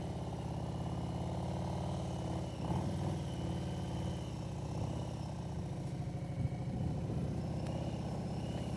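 A motorcycle rolls slowly through a wide figure eight in first gear. Its engine is a steady mid-pitched low-speed drone heard from nearby, with a few faint clunks, and nobody talks.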